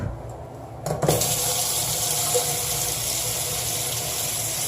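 Water from a bathroom tap runs over dirty toothbrushes, starting abruptly with a burst and then settling into a steady, fairly loud rushing stream that carries on alone without any talking.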